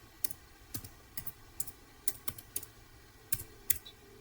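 Keystrokes on a computer keyboard entering a Cisco router command, about a dozen crisp clicks in short irregular bursts, close and clear over a quiet background hum.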